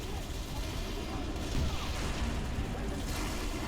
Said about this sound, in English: Why is there so much stuff blowing up right now? Literally everything is an explosion right now.